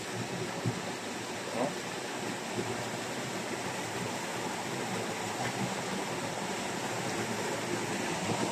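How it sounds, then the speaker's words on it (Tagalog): Spring water bubbles up in a shallow outdoor stream, a steady broadband rushing and burbling that runs unbroken and alone at moderate level. "Bukal-bukal ang tubig."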